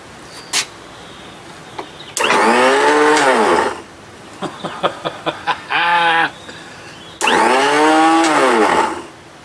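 A 1971 20 hp Johnson outboard motor runs in three loud, short bursts that rise and fall in pitch, separated by pauses with faint clicks and knocks.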